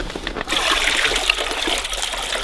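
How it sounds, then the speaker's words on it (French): Water trickles steadily into a collection bucket at a cold mountain shelter with no running water, a close, continuous wet patter with no talking. "goutte à goutte, le seau est bien rempli quoi."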